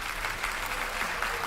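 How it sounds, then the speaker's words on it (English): Brief applause, a dense, soft wash of clapping heard at a distance, steady and continuous for a moment. "Please clap."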